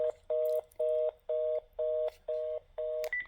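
Seven loud, evenly spaced telephone dialing tones sound as a number is keyed in to call a local Bell service line, each beep short and steady, ending with a brief higher tone.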